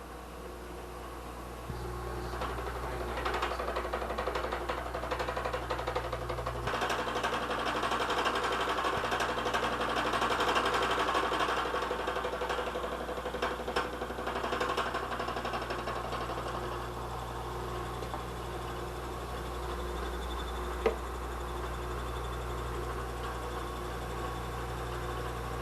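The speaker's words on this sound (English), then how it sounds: "So you can see how efficiently a fly cutter is capable of surfacing our workpiece." A milling machine's fly cutter surfaces a workpiece with a quiet, steady mechanical hum and faint rhythmic chatter that holds constant throughout, with no talking.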